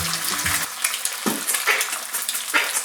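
Eggs crackle and sizzle steadily in a hot pan, with scraping and stirring clinks of a utensil against the pan throughout, close and fairly loud.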